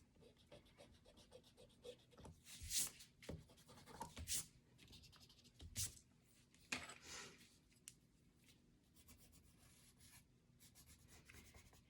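Colored pencil rubbing and scratching across paper while shading a dinosaur drawing, with soft repeated strokes and a few louder scribbling bursts, fairly quiet and close, with no talking.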